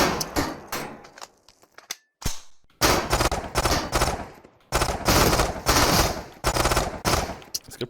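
Rapid automatic gunfire in the VR game Into the Radius, several loud close bursts separated by short gaps, with a faint metallic handling click during a brief quiet stretch.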